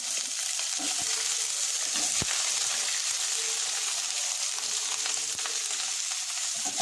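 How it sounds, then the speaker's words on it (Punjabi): Constant bubbling sizzle of jackfruit pieces frying in oil, even and fairly loud, with an occasional sharp tap of a spoon. "ਤੇਲ ਬਚਿਆ ਹੀ ਇਹਦੇ ਵਿੱਚ ਹੀ ਆਪਾਂ ਦੂਸਰੀ ਕਠਾਰ ਜੋ ਹੈ ਉਹ ਵੀ ਫਰਾਈ ਕਰ ਲੈਣੀ ਹੈ"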